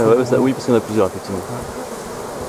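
Honey bees from a swarm being hived hum steadily in the background, while French-speaking voices talk over the buzzing near the microphone.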